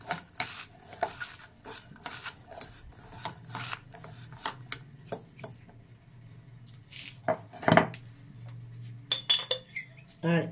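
Litti filling with ajwain and black cumin being mixed and mashed in a bowl, giving soft scraping and occasional light clinks of a spoon against the dish, with quiet pauses between strokes.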